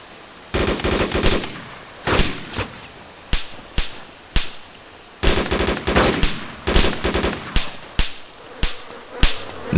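Repeated gunfire in the DayZ survival game: rapid bursts of automatic fire mixed with sharp single shots, loud and close, with short pauses between volleys and no talking.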